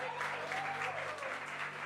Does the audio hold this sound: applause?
yes